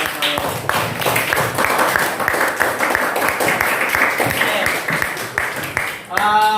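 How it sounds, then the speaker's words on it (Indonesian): A classroom of pupils applauds after a tote bag presentation, with steady, brisk clapping close by that fills the whole stretch before fading at the end. "Oke, tepuk tangan."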